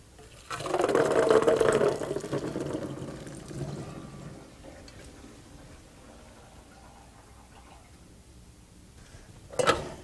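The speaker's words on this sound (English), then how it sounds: "Now we're going to drain these. Let's take them over to the sink." Cooked chickpeas drained into a colander over a kitchen sink give a loud rush of pouring water for a couple of seconds, fading to a soft trickle, with a brief sharp clatter near the end.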